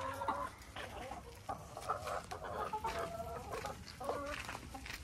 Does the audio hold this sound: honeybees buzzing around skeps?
no